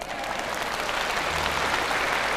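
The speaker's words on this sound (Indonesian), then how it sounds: "Mana tepuk tangannya?" Applause from a lecture audience at an Islamic sermon, a steady dense wash of many hands clapping at once, sustained and even for the whole stretch with no speech over it.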